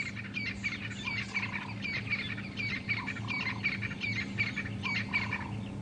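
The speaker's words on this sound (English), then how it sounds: "Beautiful francolins calling, some drongos, doves." Crested francolins call in a dawn chorus out on an African game drive, their raspy repeated phrases rising amid other birdsong, with a steady low engine hum running underneath throughout.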